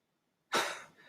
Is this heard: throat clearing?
yes